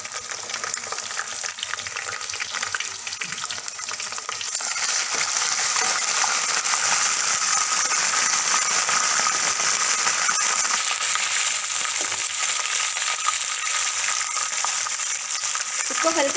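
Garlic and ginger paste frying in a pan with whole spices while making mixed vegetable fried rice, a steady close sizzle that grows louder after a few seconds and continues without pause.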